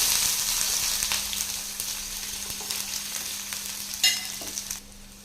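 Chopped onion frying in hot oil with urad dal in a pan, a steady crackling sizzle joined by occasional clinks and scrapes of a spoon stirring.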